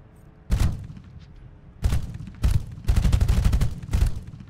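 Gunfire from a torpedo boat in the naval combat game Age of Water, with several sharp bursts and a rapid volley of shots, loud and alone.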